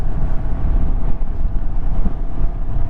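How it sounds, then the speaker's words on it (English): A steady, low single-cylinder motorcycle engine rumble runs throughout with wind buffeting the microphone, fairly loud and close, no voices. "You might notice it from the start because of the sound of the engine."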